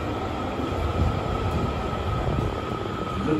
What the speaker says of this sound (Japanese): 2番線に到着の電車は境筋本町天神橋筋6丁目方面北千里行きです。